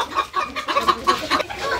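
Sebright chickens cluck in a rapid, uneven series of short, close calls that carry on steadily without pause.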